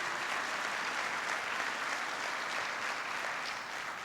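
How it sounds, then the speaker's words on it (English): Audience applause honoring Secretary of Agriculture Tom Vilsack during President Obama's 2014 farm bill speech: steady, dense clapping from a large crowd that holds at an even level throughout with no voices over it. "who deserves a big round of applause"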